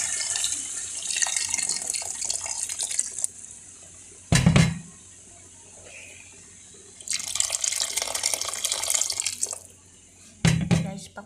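Water pours into a pot for chicken soup in two separate bursts, a bright splashing stream each time, with quieter kitchen clatter between the pours.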